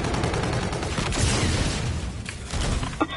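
Machine gun fire in the video game Call of Duty rattles out as dense, continuous bursts of rapid shots, loud and close, with a sharper single report near the end.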